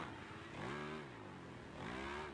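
Engine whine rising and falling in two revving sweeps in MotoGP 25, a steady motorcycle drone with a synthetic, game-like tone.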